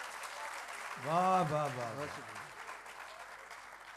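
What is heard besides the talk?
audience applause at a poetry mushaira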